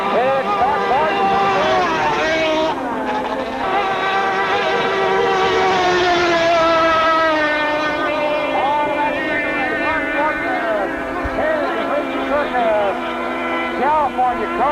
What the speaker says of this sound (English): Sponsorship running on Italian Moreno engine right now. As he takes it down through the east turn